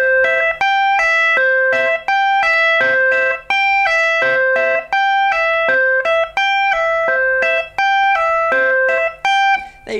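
An electric guitar rips through a fast repeated lick, a rapid run of bright picked notes cycling through the same pattern several times, loud and close with no talk.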